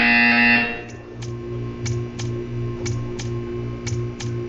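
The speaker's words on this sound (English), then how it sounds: "You will hear a buzzer." A Portal 2 test chamber buzzer sounds as a series of short, evenly spaced electronic beeps over a low droning hum, after a brief louder tone at the start.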